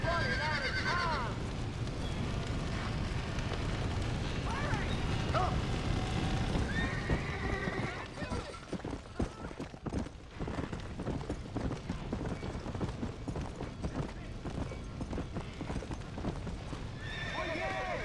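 Horses in the Red Dead Redemption video game clip-clop steadily and neigh repeatedly close by, while characters shout urgently over the commotion.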